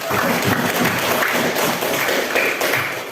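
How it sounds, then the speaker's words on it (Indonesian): Loud, dense clapping from a classroom audience praising group 1 after a presentation, close and continuous with a few heavier claps standing out. "tepuk tangan untuk kelompok 1"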